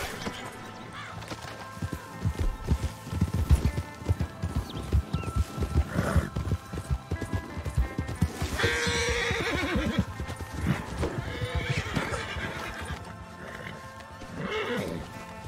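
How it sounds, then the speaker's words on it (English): A Kentucky Saddler horse in Red Dead Redemption 2 whinnies loudly over a busy stretch of clip-clopping hooves, with a second shorter neigh later and a constant low hum underneath. "This Kentucky Saddler is a decent horse."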